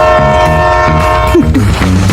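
A train passes close by, loud and steady, with sustained horn-like tones and rumbling rail noise running throughout.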